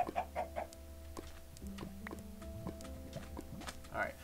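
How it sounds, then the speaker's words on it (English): Several Minecraft chickens cluck and squawk in short bursts, close by, with scattered clicks and a faint tonal hum in the background. "Look at these suicidal chickens."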